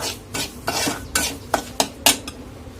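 Semolina roasting in a pan, stirred with a utensil: about eight rhythmic scraping strokes, close and distinct, over a faint background with no talk.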